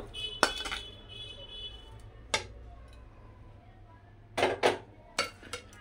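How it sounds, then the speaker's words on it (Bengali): A spatula mixes vegetables into veg fried rice in a pan, giving a few scattered clinks and scrapes against the metal with quiet gaps between them. "এবার সবজিগুলোও ভাতের সঙ্গে মিশিয়ে নিব।"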